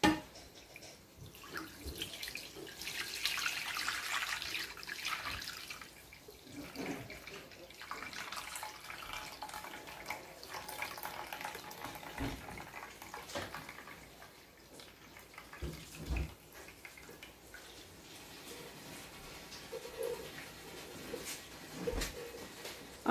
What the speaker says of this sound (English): Okay guys, let's pour in a container.